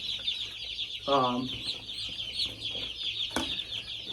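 Chickens cluck nearby, one short burst of clucking standing out over a constant background of chirping and faint farmyard noise.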